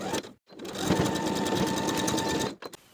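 A sewing machine stitches a half-inch lining seam on a dress in one continuous close run of fast, even mechanical chatter lasting about two seconds, with brief handling noise before and after.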